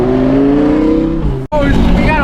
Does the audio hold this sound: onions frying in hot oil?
no